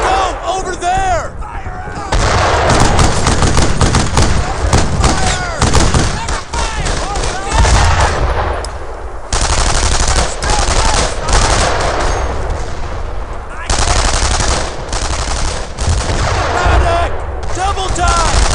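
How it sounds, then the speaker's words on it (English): Gunfire from the World War II video game Brothers in Arms: Earned in Blood: loud, sustained bursts of rifle and machine-gun fire crackle in dense waves, broken by brief lulls, while soldiers shout orders over the shooting. "Fire now! Keep shooting!"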